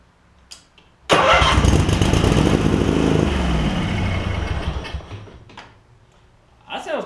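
A Craftsman garden tractor parked for three years cranks and fires, its small engine roaring up loudly, then settling and fading over several seconds, with a voice heard at the end.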